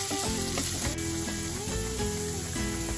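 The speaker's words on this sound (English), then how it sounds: "To this we add just a pinch of salt and stir it nicely" Chopped carrots for fish Florentine fry in a pan with sugar and a pinch of salt, giving a continuous close sizzle broken by a few stirring scrapes, with no voices.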